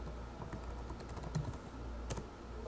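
A web address typed on a computer keyboard, a quick run of soft, close key clicks over a low background hum, no talking.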